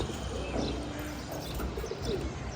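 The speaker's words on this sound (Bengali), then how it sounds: "এই কবুতরটা" Soft pigeon cooing in a noisy, close setting, low murmuring calls repeating over steady background hiss.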